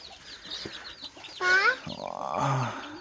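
Young chicks at a Thai fighting cock farm cheep and cluck in short, close calls, with a louder squawk midway and a lower clucking hen or rooster following.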